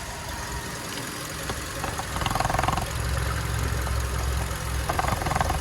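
A Skoda Octavia A5 1.6 MPI engine idles steadily and evenly, a constant low hum with a slight rise in rumble partway through, no voices present.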